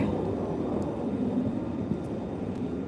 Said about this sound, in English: there's one you can see taxiing right there